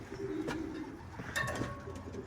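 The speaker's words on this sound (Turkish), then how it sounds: "Kuşları da bir açalım." Pigeons coo softly in a loft during a pigeon-flying session, several low rounded calls repeating irregularly over light background noise, no talking.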